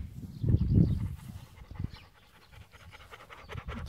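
A very young dog pants in quick, breathy bursts close by, with a heavier stretch early on and lighter, rapid panting continuing throughout, no talking.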